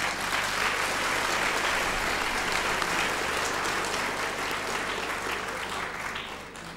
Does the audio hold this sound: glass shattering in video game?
no